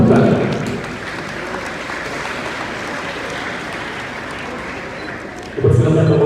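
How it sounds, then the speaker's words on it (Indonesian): Audience applause at a Ramadan visit to the Darussalam Islamic boarding school in Ciamis, a dense sustained clapping that carries on for several seconds, with a louder voice breaking in at the end. "Berikan tepuk tangan kembali."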